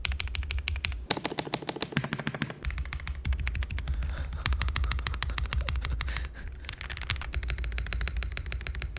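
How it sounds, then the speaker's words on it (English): Rapid, continuous typing on a custom mechanical keyboard, dense clicky keystrokes in quick rhythm with brief shifts in pace, close and clear with no voices. "Aside from all the recording devices, the keyboard does sound really good."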